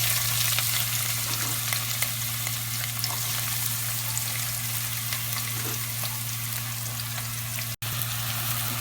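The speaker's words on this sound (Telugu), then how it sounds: "ఇప్పుడు తరిగి పెట్టుకున్న ఉల్లిపాయలు అందులో వేసుకోవాలి." Chopped onions frying in hot oil for chicken curry, a steady, close, even sizzle with faint crackles throughout and no talking.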